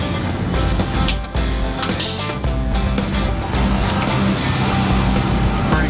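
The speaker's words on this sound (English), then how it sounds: "Okay, go wide open throttle." A drag racing car's engine revs hard at wide open throttle during a run-up test, loud and dense with a steady roaring drone and brief dips.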